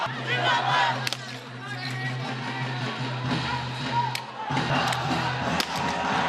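Across the Pakistan–India border, an Indian crowd chants slogans in unison, a dense mass of voices with steady droning tones and a few sharp accents.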